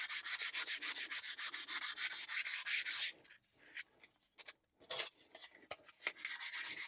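A wooden neck for a cigar box dulcimer gets hand sanded in close, rhythmic back-and-forth strokes for about three seconds, then a few short, irregular rubs follow before steady strokes resume.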